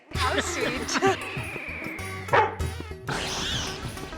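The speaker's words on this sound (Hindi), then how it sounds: "शेरू इनको देख के भौंक क्यों रहा है?" A dog barks and yips repeatedly in a comedy television scene, short excited barks scattered over a busy indoor background with voices and music.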